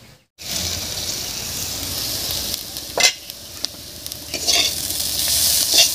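Fresh garden beans sizzling in a pan after the lid comes off, a steady frying hiss with a few scraping stirs, close and fairly loud, no voices.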